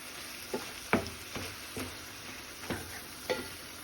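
Bitter gourd and potato curry is stirred in a pan, a quiet bed of sizzle broken by about seven scraping strokes of a spoon against the pan at an uneven, unhurried rhythm.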